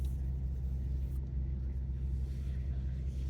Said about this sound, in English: I have the car running for a little bit just to warm the car up